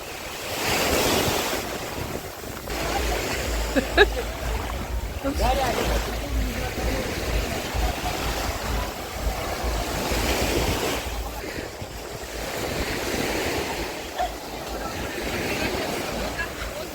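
Sea waves roll and break on the Odesa shore under cloudy skies while strong wind buffets the microphone, a continuous rushing wash of surf that surges and recedes throughout.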